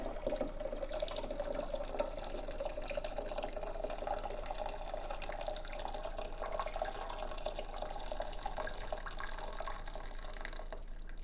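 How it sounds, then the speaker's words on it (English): Hot water poured steadily into a vessel for brewing kombucha tea, a continuous even splashing and trickling stream that runs unbroken for the whole stretch, fairly close with no talking. "just pouring in the hot water"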